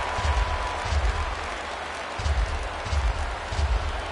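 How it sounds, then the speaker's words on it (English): Baseball stadium crowd in a PS4 video game rising in repeated swells of cheering and applause, rhythmic bursts over a constant low murmur. "Crowd gets up for the 3-2."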